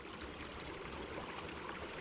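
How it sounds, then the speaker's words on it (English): Stream water trickles beneath heather on a Scottish hillside, a steady, close, broadband wash of flowing water with no voices. "Listen to the water."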